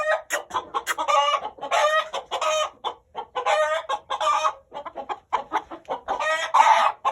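A young red Amrohi rooster with henna-yellow colouring clucks and calls close by in repeated loud bursts, its throaty cries separated by short pauses.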